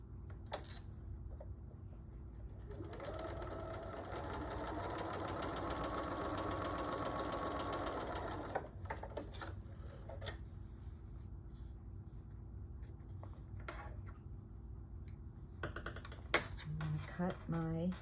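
A sewing machine stitches quilt squares along a marked line, its steady whirring run lasting several seconds before stopping, followed by quieter handling clicks and fabric shuffling.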